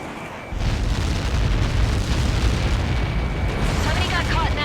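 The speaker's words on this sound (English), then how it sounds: "How many got caught in that explosion?" A massive blast impact in the flight combat game Ace Combat 7, a sudden loud deep roar that bursts in and rumbles on steadily, with radio voices talking over it.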